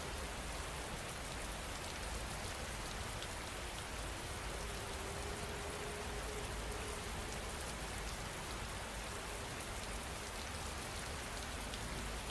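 Steady rain falls evenly, a soft, dense hiss that holds constant throughout, with no other sounds breaking through.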